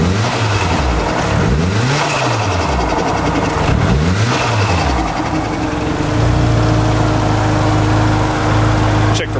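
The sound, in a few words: car engine revving at a JDM auction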